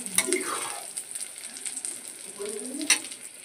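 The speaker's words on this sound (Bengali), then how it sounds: "আর এদিকে নিম বেগুন করব, তার জন্য বেগুনটা ভেজে নিচ্ছি।" Brinjal slices frying in a pan for neem-leaf eggplant, a close steady hissing sizzle with soft stirring scrapes and a couple of sharp utensil clicks.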